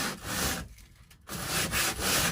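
Steady abrasive rubbing of sanding a metal VW T4 campervan panel, in long scratchy strokes with a brief pause in the middle, close and fairly loud.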